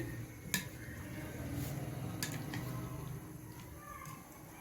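A spoon scrapes and clicks against a bowl while chickpea chaat with yogurt, potato, onion and tomato is stirred and mixed. Several sharp taps ring out over soft, continuous mushy churning, fairly quiet and close.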